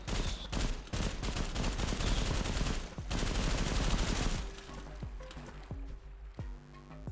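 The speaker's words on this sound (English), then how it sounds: "Had to waste a lot of bullets there" Rapid, dense gunfire from the video game Sulfur rattles loud and close for about four seconds, then gives way to quieter splashing and swimming movement.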